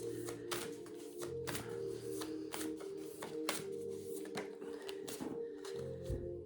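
A deck of Fairy Temple oracle cards is shuffled by hand up close, giving a quick run of crisp, repeated riffling flutters and soft card slaps.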